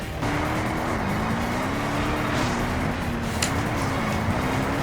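Car engine in the video game GTA San Andreas droning steadily with a constant, loud hum and slight pitch wavering, like continuous driving close by.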